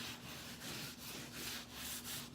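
Soft, rhythmic rubbing strokes of a hand over wallpaper hung on a textured wall, repeated back and forth at a steady pace, close and quiet with no talking.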